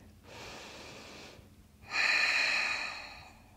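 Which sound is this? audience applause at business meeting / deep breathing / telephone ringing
deep breathing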